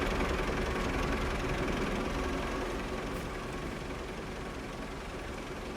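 A tractor engine runs steadily at a fixed idle, a dense continuous rumble close by that fades slightly toward the end, with no voices.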